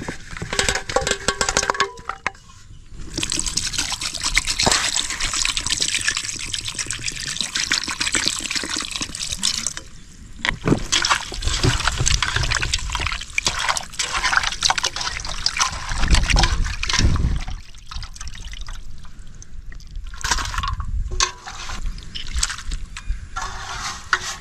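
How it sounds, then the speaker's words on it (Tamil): Water splashes over a kilo of raw chicken being washed by hand in a village kitchen, a continuous rushing pour with sloshing and dripping, close and loud, briefly interrupted by short pauses. "இப்போ பார்த்தீங்கன்னா தண்ணி ஊற்றி நல்லா அலசிக்கிறலாம்."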